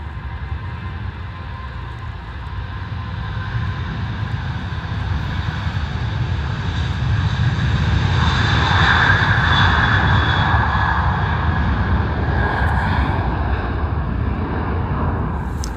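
A Ryanair passenger jet landing at Stansted Airport, its engine roar swelling steadily louder and nearer, then holding as a broad, sustained rumble with a whining tone.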